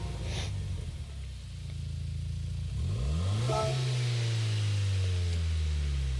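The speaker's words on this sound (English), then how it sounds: "I'm going to click on this car, listen to the startup sound" Background hum, then a 2015 Renault Clio R.S. 220 Trophy engine in Gran Turismo 7 cranks and fires, revving up and settling into a loud, steady idle rumble.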